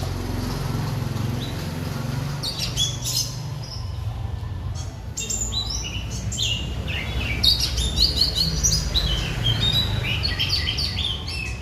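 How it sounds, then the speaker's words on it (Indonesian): Songbirds chirp and tweet at a bird feed shop, with many overlapping calls and short trills sounding fairly close over a steady low rumble of background noise. "bagi pecinta burung berkicau bisa datang di tempatnya Mas Burhan"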